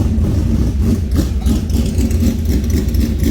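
A high-horsepower drag race car engine idles loudly at the track during the Winternationals at night, a dense continuous rumble with slight throttle fluctuations and no audible talk.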